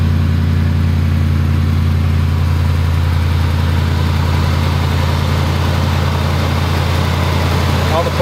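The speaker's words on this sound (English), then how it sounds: "Now we're just going to start it, recheck the fluid, make sure the belts are turning right." A 2004 Ford F-150 engine runs after a water pump replacement, a steady close idle with a deep low hum and belt and pulley whir, continuous and loud.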